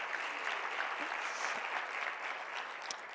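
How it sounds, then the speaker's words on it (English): Sustained applause from the audience at a startup pitch awards ceremony, thanking the core organizing team; dense, steady clapping fills the room at an even level throughout. "Let's give the core team a really,"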